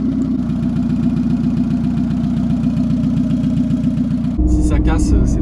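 Turbocharged engine of a modified Renault Espace running steadily, a loud close rumble at a constant idle-like speed, then a brief change in tone near the end.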